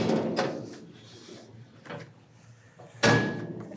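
A meat bandsaw's table swings shut and then its door closes, producing a few sharp knocks and clunks spaced over several seconds, with the last impact the loudest and nearby.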